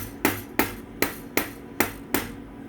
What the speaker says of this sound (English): even out that tension with the mallet, not using too much pressure anywhere at one time